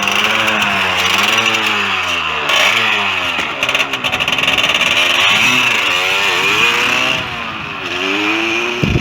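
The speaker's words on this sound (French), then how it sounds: "pour démarrer, il faudra lâcher lentement l'embrayage tout en accélérant en même temps" A motorcycle pulls away from a stop as the clutch is slowly released while throttling up, the loud engine revving and climbing in pitch, then dropping and rising again through repeated accelerations close by.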